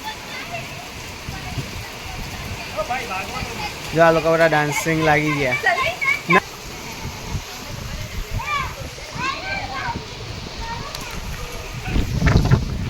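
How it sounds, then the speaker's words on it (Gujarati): Heavy rain pours down outdoors, a constant broad wash of falling and splashing water under loud, close conversation, with a louder splashing burst near the end. "જો વરસાદ ગાઈસ પાછો ચાલુ થઈ ગયો છે"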